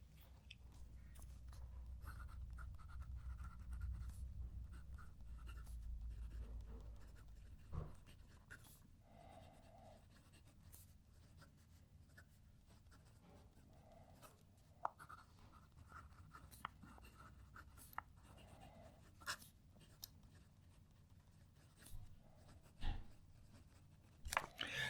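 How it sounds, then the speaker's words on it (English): Fountain pens writing a sentence on paper, a quiet scratching of nibs that comes in short strokes and scattered light taps, faint and close, with low rustling early on. "now what I'm going to do is write a sentence with each of the pens"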